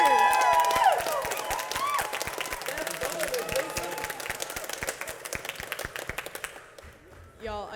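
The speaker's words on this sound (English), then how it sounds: "Can you give them another huge round of applause for our" Sustained audience applause for the teachers at a school band spring concert: dense, steady clapping from a large crowd that carries on for several seconds, then thins out and fades near the end.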